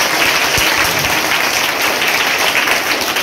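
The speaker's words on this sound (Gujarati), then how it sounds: "ફરી વખત તાળીઓ પાડો." An audience claps for a quiz team at an Azadi Ka Amrit Mahotsav quiz event: steady, dense applause fills the whole stretch at an even level with no talk over it.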